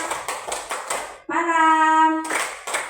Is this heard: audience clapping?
yes